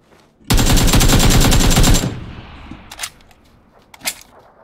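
Rapid automatic gunfire in PUBG on the Sanhok map, a loud, dense burst lasting about a second and a half, followed by a few scattered single shots further off.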